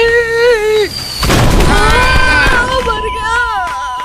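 Bombs and firecrackers burst in a loud, dense barrage, with a heavy crackling blast under a voice that cries out, followed by tonal music and further shouting.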